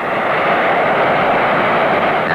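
A Harrier jump jet's engine roars at full throttle as it slows toward a hover, a loud, steady, broadband jet thrust close by with no break.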